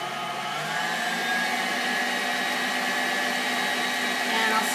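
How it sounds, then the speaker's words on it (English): A blender purees fresh strawberries, giving a continuous steady whirring motor drone that holds even throughout, close and moderately loud with no talk. "And I'll start pureeing the strawberries"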